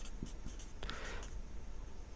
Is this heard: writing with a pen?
yes